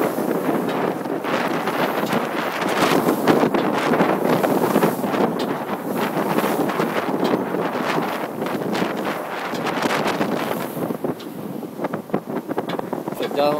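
Strong, continuous wind buffeting the microphone on the front deck of a boat on the Bosphorus, Istanbul, with heavy rumbling gusts, while someone talks underneath throughout.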